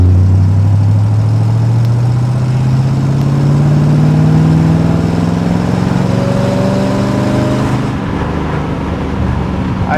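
A 1969 Chevrolet Corvette 350 V8 accelerating hard in 4th gear from about 1,000 RPM, its deep engine drone climbing steadily in pitch, loud and close from inside the cabin, easing off near the end.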